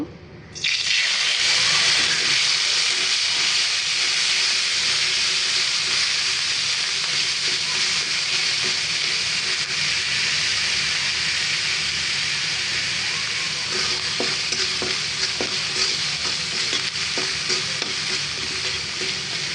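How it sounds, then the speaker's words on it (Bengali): Spices frying in the same oil left from frying tilapia, a loud, steady sizzle with stirring scrapes throughout, starting abruptly as they hit the pan and continuing without talk. "এবারে ওই একই তেলে মশলাগুলো দিয়ে দিব"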